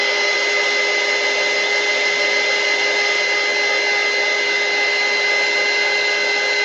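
Steady, loud hot air heater roaring close by as it warms an arts and crafts piece, a constant whirring hiss with a faint tonal whine running unchanged throughout.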